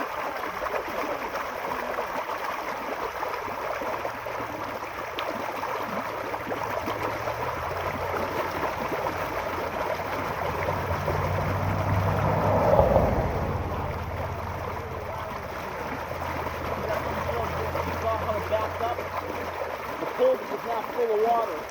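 Water rushes through a filled-up culvert, a continuous churning roar with a swell partway through, heard close under someone talking.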